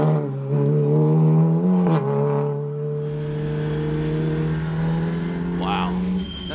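A race car engine, an Audi RS3 TCR or Cupra Leon time attack car, hums steadily at low revs on a warm-up lap, a sustained droning tone with slight pitch shifts, close and loud.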